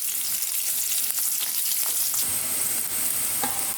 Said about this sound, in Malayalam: നമുക്കതിലേക്ക് കുറച്ച് സവാള ചെറുതായിട്ട് അരിഞ്ഞത് ഇട്ട് കൊടുക്കാം